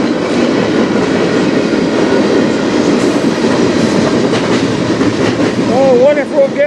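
A train rolls past on the Strathroy Subdivision with a loud continuous rumble and rhythmic clatter of wheels over rail joints, ending in a rising wheel squeal, with a voice talking faintly underneath.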